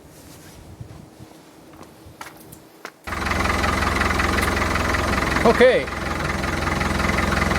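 A Land Rover Defender heard from inside the cab: a few seconds of quiet shuffling, then the engine starts and settles into a loud, steady idle drone. A voice speaks briefly.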